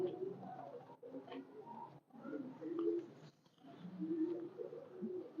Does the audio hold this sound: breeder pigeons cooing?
yes